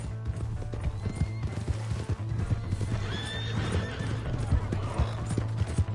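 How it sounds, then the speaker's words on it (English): A horse clip-clops steadily and neighs loudly during a chase scene. Shouting voices are heard over the hooves and whinnies. "Hey, that's my horse!"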